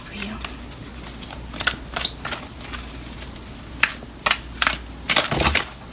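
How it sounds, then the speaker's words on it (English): Tarot cards are shuffled by hand in several short bursts of riffling and flicking, close up, with a person talking over them. "Let's just shuffle it like this."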